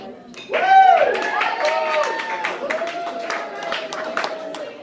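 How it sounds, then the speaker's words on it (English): An audience at a stand-up comedy show claps and whoops with raised voices. The crowd noise swells loudly near the start, then settles into scattered clapping and cheering. "Round of applause"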